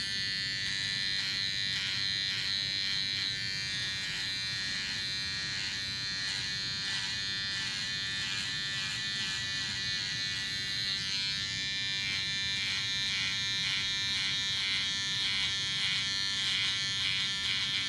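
An electric beard trimmer runs without a break, shaving a beard at home, giving a steady close buzz whose pitch shifts slightly as it moves through the hair, with no talking.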